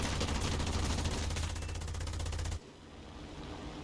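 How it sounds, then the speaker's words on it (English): Rapid video game machine gun fire from an IAR-81C fighter plane rattles in a continuous dense burst for a few seconds, then abruptly stops, leaving a duller background rumble. "finishing him off with machine guns"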